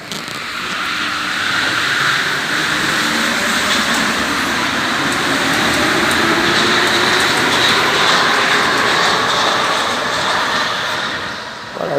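A metro train runs for a long stretch, loud and continuous with rumbling wheels and rushing noise. The sound swells gently and fades slightly at the end, with no talk.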